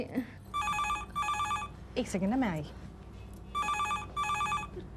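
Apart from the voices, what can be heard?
telephone bell ringing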